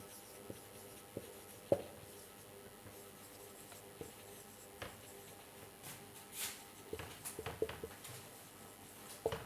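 Chalk or marker scratches and taps across a classroom board as a sentence is written, in short irregular strokes with small clicks, quiet and close with no talking.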